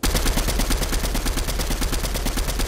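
Rapid automatic gunfire in Fortnite, a steady stream of evenly spaced loud shots close up, firing continuously without pause and no talking over it.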